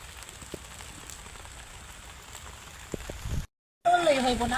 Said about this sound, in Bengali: এখন হলো আস্তে আস্তে বৃষ্টি পড়তেছে